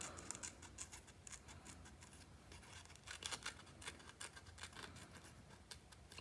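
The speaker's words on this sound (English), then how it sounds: "But just cutting around there with my scissors" Quiet, close snipping of scissors through scrapbooking paper, a run of small irregular cuts with brief pauses between them.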